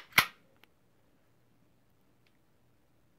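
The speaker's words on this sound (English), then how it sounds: "You can actually feel and hear that click." A Smith & Wesson CSX 9mm pistol's trigger resets with one sharp, close mechanical click, followed by a much fainter tick and then near silence.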